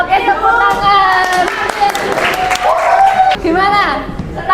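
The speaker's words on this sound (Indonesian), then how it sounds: "Enggak, oke, tepuk tangan." Students in a teacher-training classroom lesson clap together, a fairly loud, busy patter mixed with lively overlapping voices and shouts throughout.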